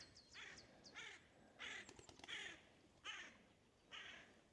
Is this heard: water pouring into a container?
no